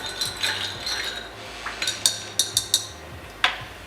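A spoon stirs a flaming shot made with 151 overproof rum in a glass, with a soft swirl and several sharp, close clinks against the glass near the end.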